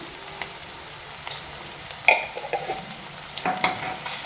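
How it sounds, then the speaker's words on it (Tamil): Ginger-garlic paste sautés in hot oil for ghee rice, a quiet crackling sizzle with a few sharp spoon scrapes and clinks near the end, no talk. "அதையும் எண்ணெயில் நல்லா வதக்கிக்கோங்க"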